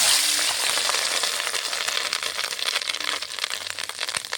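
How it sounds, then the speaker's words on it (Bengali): Fish roe coated in turmeric and salt fries in hot mustard oil, a bright crackling sizzle that starts strong and settles into steady spitting with occasional sharper pops, close and without talk. "তেলটা গরম হয়ে গেছে, এখন হলুদ নুন মাখিয়ে রাখা ডিমটা ভেজে নেব।"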